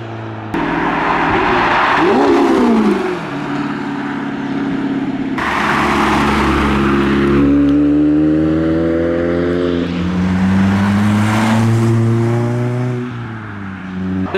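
Cars leaving Castle Combe circuit after a spring action day, one after another driving past close by, engines revving and rising through gears, loud and continuous with no talk.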